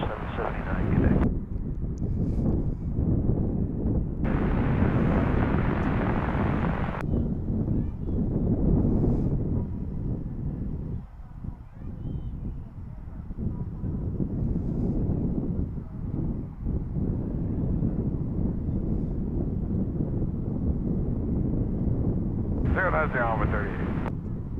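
An Airbus A319 airliner passes at DFW International Airport, its jet roar loud, broad and sustained, with wind buffeting the microphone and people talking over it.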